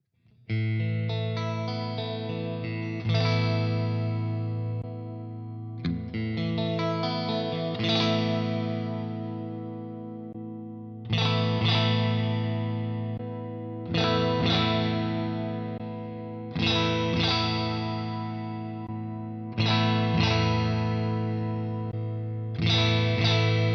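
Electric guitar strums sustained chords through a Soldano Astro-20 amp, distorted and chorus-tinged, switching between channels, each chord ringing out for a few seconds before the next, with no talking.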